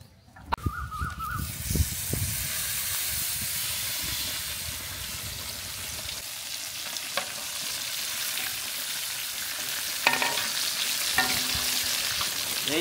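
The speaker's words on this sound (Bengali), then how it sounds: "কড়াই এখন গরম হয়ে গেছে, এখন সাদা তেল দিয়ে নিচ্ছি" White cooking oil poured into a hot wok, starting with a few clanks and then settling into a loud, steady hiss and sizzle close by, with brief clatters near the end.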